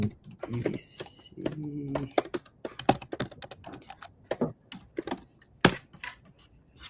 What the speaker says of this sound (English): I'm just typing, so I'm like, let me just type it properly and then add it.